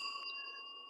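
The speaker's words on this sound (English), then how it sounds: "I think sir rang the bell first." A bell rung during a word game gives a single bright ding that rings on with a steady, slowly fading tone.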